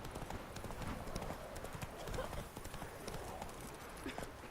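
Horse hooves galloping in The Witcher 3 video game, a rapid steady clip-clop rhythm that runs throughout at close range, with someone talking over it.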